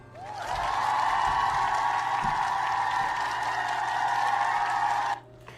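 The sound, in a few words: played cheer sound effect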